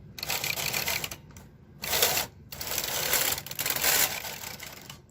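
A Brother KH940 knitting machine carriage slides across the needle bed in short bursts, a close, busy mechanical clattering and rasping with brief pauses between passes.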